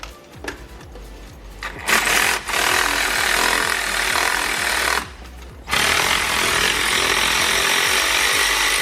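A rapid impact wrench loosens the 17mm tensioner bolt on a supercharged Toyota 4Runner, loud hammering bursts lasting several seconds with a short pause between them, no talking.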